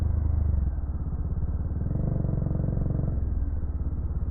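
A Bajaj Dominar UG400 motorcycle on the road, its engine holding a steady low rumbling drone throughout with a slight rise in the middle, no voices over it.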